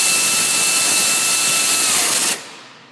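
Power tool tightening an alternator bolt on a Ford Taurus 3.0L, a loud, close high-pitched whir with a steady tone that runs for over two seconds and then cuts off abruptly.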